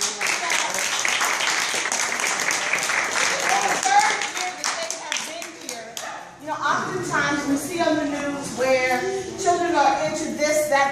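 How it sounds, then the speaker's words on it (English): An audience claps for several parents at a high school choir event, dense applause running steadily throughout, with crowd voices and cheering mixed in during the latter half. "Can we applaud them?"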